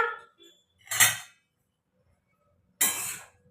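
Metal utensils clink against a tiffin lunchbox as it is packed in a home kitchen, two short bright clatters separated by quiet, close and moderately loud.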